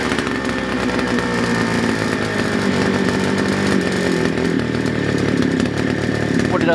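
A two-stroke strimmer engine runs steadily after starting, a loud buzzing drone with rough harmonics that holds throughout, close by and alone with no talk.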